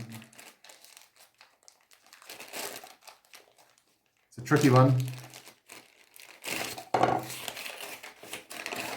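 Close, crackly rustling of a plastic bag being handled in bursts, with a person talking before and between the crinkles.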